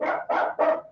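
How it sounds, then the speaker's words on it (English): A dog barks three times in quick succession, loud and close, each bark a full, sustained yelp with short gaps between, indoors during a video call. "I'm sorry about the dog."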